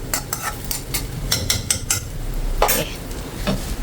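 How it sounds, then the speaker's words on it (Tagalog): Chicken pastil being stirred in a lightly oiled pan, with a steady run of scraping and clinking taps from a utensil against the metal over a soft sizzle, close and moderately loud. "mix natin ng maigi"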